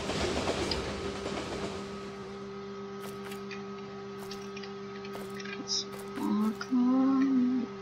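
A train passing in the Brick Rigs video game, a steady rumbling hum with faint rail clatter that fades, followed by a few brief tonal game sounds.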